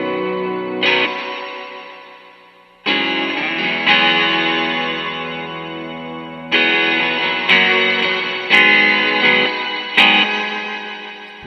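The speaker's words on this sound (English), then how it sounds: "And so I tried out the micropog in the Destination Reverb." Electric guitar played through a Micro POG octave pedal into a Destination Reverb, sounding loud, full and distorted: sustained chords struck several times, each ringing out with a thick sub-octave and a lingering reverb tail.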